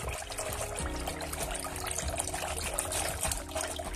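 Water trickling and pouring into a bowl of thick curd for dahi vada, a steady liquid stream running continuously and fairly close, with no voices.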